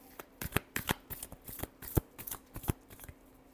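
A deck of tarot cards being shuffled by hand, a rapid run of close, crisp riffling flicks and slaps in quick irregular bursts with no talking.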